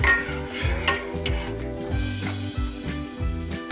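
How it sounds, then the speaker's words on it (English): Sugar syrup for atta halwa stirred in a pan, with repeated rhythmic scrapes of a spoon against the metal over a soft bubbling sizzle, close and fairly loud. "We'll stir it for a few more seconds"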